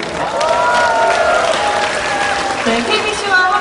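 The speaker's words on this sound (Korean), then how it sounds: "다시 한번 큰 박수 부탁드립니다" Audience applause at the Jeongnamjin Jangheung water festival celebration show, a steady wash of clapping from a large outdoor crowd, loud and continuous, with faint voices and music tones rising over it.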